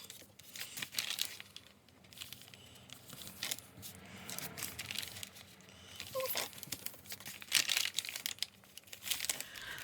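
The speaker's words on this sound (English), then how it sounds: "So I might cut some plain paper or some of my white cardstock." Plain paper and white cardstock being handled and cut for a junk journal, with close, repeated crinkling, rustling and tearing-like swishes in uneven bursts throughout.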